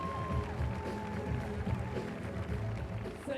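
Applause and cheering from an audience at a women's lead climbing World Cup final in Briançon, welcoming a Slovenian climber, steady and moderately loud crowd noise throughout.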